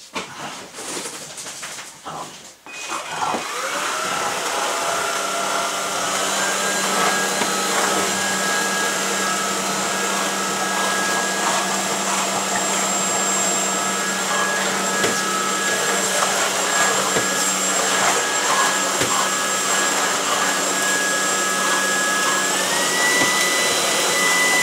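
A household vacuum cleaner starts after a few seconds of handling noise and then runs loud and steady with a constant whine for about twenty seconds. Faint animal sounds come and go in the background.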